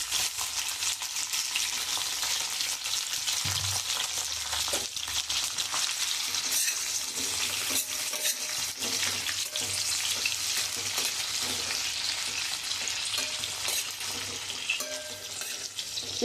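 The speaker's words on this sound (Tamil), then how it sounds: "இந்த கத்திரிக்காவை இந்த எண்ணெயில் போடுறேன்" About a quarter kilo of brinjal sizzles steadily in hot oil in a pan for a Tamil Nadu style eggplant kuzhambu, with a constant crackling hiss and occasional clinks from stirring, close up and without talk.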